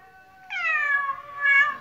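A pregnant female cat gives a single clear, drawn-out meow that rises and then wavers, with a second swell near the end, close and alone against a quiet room.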